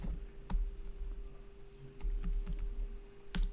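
Typing on a computer keyboard, with scattered individual key clicks and a sharper press near the end, quiet and close over a steady low hum.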